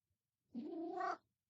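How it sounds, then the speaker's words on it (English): A pet cat lets out a single drawn-out meow, close and clear against near silence, lasting under a second. "My cat is sitting here with me, so you might hear him from time to time."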